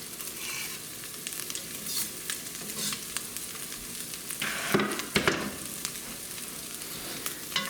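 Garlic frying in a pan with ground lamb, sizzling steadily at close range with occasional scraping stirs and a brief louder burst of crackle midway.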